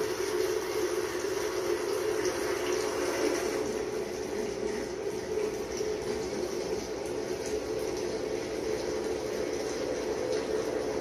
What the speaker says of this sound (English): we're going to slowly add the cream a little bit at a time